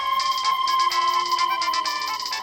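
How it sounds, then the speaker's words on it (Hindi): A bright electronic ringtone plays a repeating melodic pattern of quick, chiming notes, loud and close with no talking. "ये तो मेरी रिंगटोन है।"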